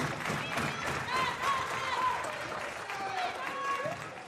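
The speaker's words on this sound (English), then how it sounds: "Everybody in the box on their feet, clapping it up." Volleyball crowd in a gym claps along during a college match, a mid-level patter of applause and cheering beneath an announcer's voice.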